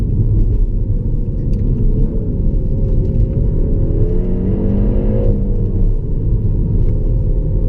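A deep, steady artificial engine rumble played through the speakers of a Peugeot 308 GTi 270 hums throughout, with a brief rise in pitch as it revs, heard from inside the cabin.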